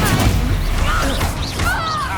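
An Incendio fire spell cast in Hogwarts Legacy, heard as a burst of crackling, whooshing combat impact mixed with swooping magical tones and clashing effects. The sounds are loud and close, and a voice is also present.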